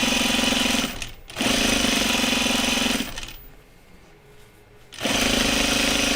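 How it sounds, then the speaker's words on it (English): Chainsaws cut trees nearby. Loud, steady roaring bursts run for a few seconds each, with a short break, then a longer quieter lull before the roar resumes. "Can you guys hear the chainsaws?"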